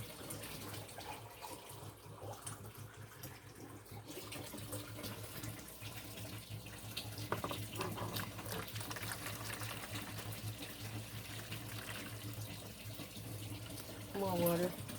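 Tap water pours steadily and continuously into a pan for a first cheesecake's water bath, a constant splashing hiss that lasts the whole stretch, with a faint voice now and then.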